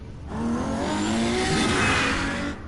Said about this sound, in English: Are you in a car? 'Cause it sounds like it's going with 270 miles an hour.